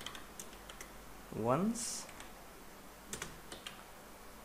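A few soft clicks from a computer keyboard as code is typed, faint and scattered, with a single spoken word cutting in briefly.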